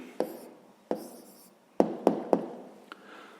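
Close pen or chalk strokes as a maths answer is written out by hand, about six short scratchy marks in uneven bursts, some quick and clustered, with no talking.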